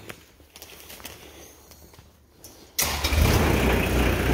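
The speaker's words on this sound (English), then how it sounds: "We're going to take this Kubota to life." Kubota engine on a 2006 Navigator RT5500 truck-mounted forklift cranking and catching at about 2.8 seconds, then running loud and steady close by after a quiet stretch with faint clicks.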